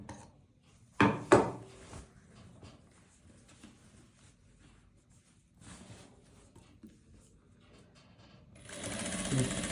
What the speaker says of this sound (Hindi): ये हमारा ऊपर स्टिचिंग करके हम लोगों ने इसको तैयार कर दिया